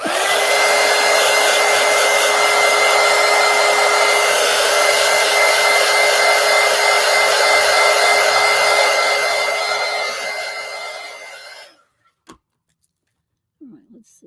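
A hair dryer blows on wet paint, a loud steady whine and rush lasting about eleven seconds before it switches off and winds down, leaving near silence with a faint tap.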